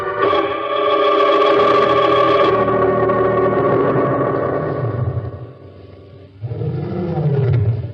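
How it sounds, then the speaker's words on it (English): Lion roaring at a circus in a radio drama, a long, loud, echoing roar that swells and fades, followed by a lower grunting second roar, heard alone without talk. "Somewhere in the distance, a lion roared."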